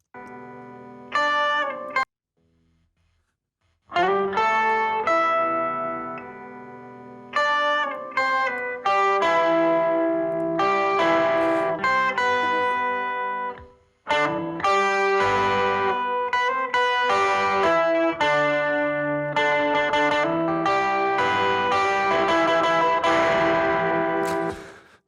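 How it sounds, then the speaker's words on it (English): An isolated electric guitar track runs through effects with chorus and distortion, strummed and picked chords ringing loud and continuous, broken by a couple of short pauses before a denser, busier passage. "Here's a guitar."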